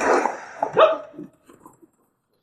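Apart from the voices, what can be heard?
dog barking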